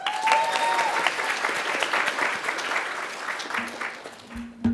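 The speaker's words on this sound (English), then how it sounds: "Can we get another round of applause, please?" An audience at a young women's career conference claps in a sustained, dense round of applause that slowly tapers off, with a faint tone briefly heard near the end.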